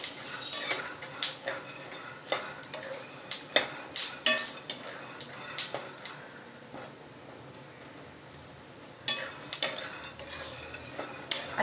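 Peanuts being dry-roasted in a pan on a gas stove, with repeated clinks and scrapes of a spoon against the pan in irregular bursts, close and fairly clear.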